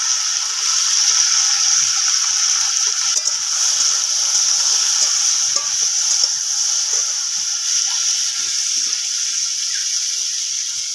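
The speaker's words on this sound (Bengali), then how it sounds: "কড়াতে তেল দেবো, লতিগুলো দিয়ে দেবো," Taro stolons fry in hot oil in a wok with turmeric powder, giving a steady, close hiss of sizzling broken by small scattered crackles and pops throughout, with no talking.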